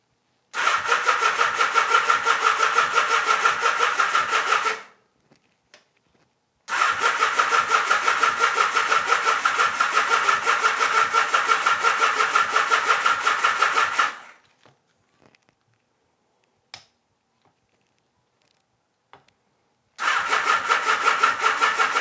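A Honda Nighthawk motorcycle that has sat for four years cranks on its starter in three long, loud, steady bursts, each running several seconds and separated by short silent pauses.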